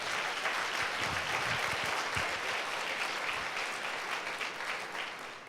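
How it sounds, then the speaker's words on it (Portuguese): A church congregation applauds the Lord during a Sunday worship service, a steady crowd of clapping hands filling the room for several seconds before easing off slightly at the end. "Dê um aplauso ao Senhor."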